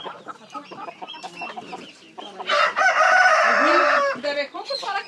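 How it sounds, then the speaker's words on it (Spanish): Chickens clucking close by, then a rooster lets out one loud, long crow that dominates the middle, followed by more clucking. "Mira, ya se metió el gallo."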